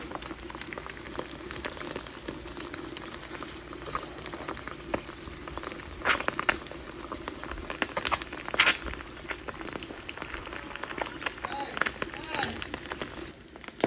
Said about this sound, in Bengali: এই যে আমার ডিমগুলো ভাজি হয়ে গেছে।